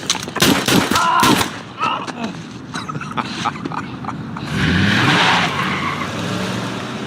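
Gunfire in a daytime street scene from the Luke Cage TV series, a quick burst of loud sharp shots up front, then scattered cracks and a swelling roar of commotion and screeching later on.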